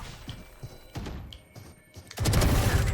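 Gunfire in Valorant, with a few sparse thuds of shots early on, then a loud, dense burst of rapid fire toward the end.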